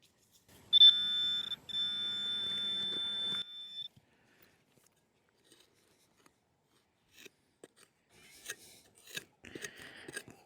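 Metal detector sweeping over a big buried lump of iron in an English field, giving a brief, sharp electronic tone of warbling beeps, then quiet, followed by faint scraping and rustling.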